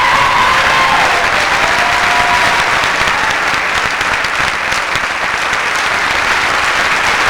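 Audience at the 1990 Miss Indiana Pageant gives a pageant finalist a loud, sustained round of applause with some cheering throughout, and a voice faintly heard near the start.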